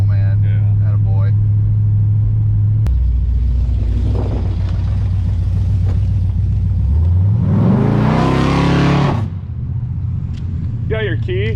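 A Chevrolet Nomad drives up with a deep, steady engine note that swells into a rising rev near the end before cutting off, heard close with people talking over it.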